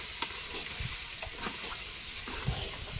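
Potatoes frying in a pan with water added, a steady soft sizzle and bubbling beneath scattered scrapes and clinks of a spatula stirring the mix, fairly quiet and close.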